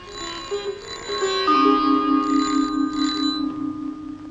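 An old telephone bell rings loud and close in trilling bursts, with a steady ringing tone underneath and a harmonic buzz that fades out near the end. No voices are heard.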